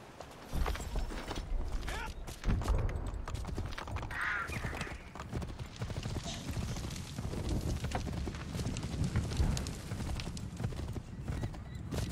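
A horse gallops in the video game Assassin's Creed 3, with a rapid, steady clip-clop of hooves and a brief whinny, mixed with other game sounds.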